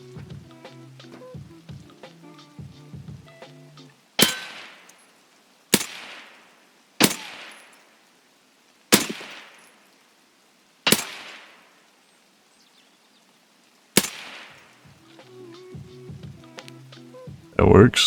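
Gunfire in Escape from Tarkov PvE: about seven loud, sharp single shots spaced a second or two apart, each with a decaying tail. Talk and game noise fill the stretches before and after the shots.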